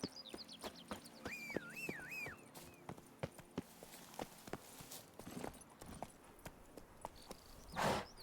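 Roach, the horse in The Witcher 3, walks with steady clip-clopping hooves, a string of sharp regular hoof strikes over a quiet outdoor backdrop with a few bird chirps.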